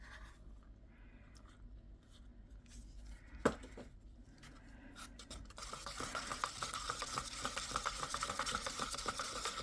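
Eco resin mixture being stirred by hand in a container, quiet scraping at first, then steady, denser rhythmic stirring and scraping that grows louder toward the end, with one sharp knock midway.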